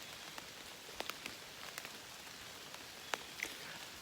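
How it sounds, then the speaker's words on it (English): Steady rain falling in woodland during deer season, a soft continuous hiss with scattered sharper drips and patters close by, no voices. "it's going to rain all day"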